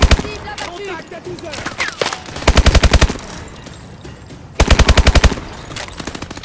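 Gunfire in the Call of Duty Advanced Warfare campaign, loud rapid machine-gun bursts in two long rattling volleys with scattered shots and battle noise, a voice talking between them.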